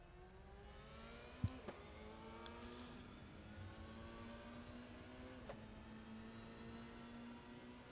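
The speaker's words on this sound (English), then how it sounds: "let's hear what this car sounds like" A race car engine in the RaceRoom video game at Spa holds a steady, smooth whine heard from inside the car, with a few faint clicks and no voices.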